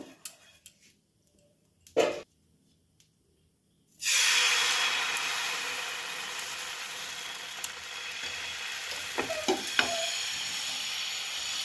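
Pitha batter sizzles in ghee in a pan, a steady soft frying hiss that starts suddenly after some quiet clinks, with occasional utensil taps over it.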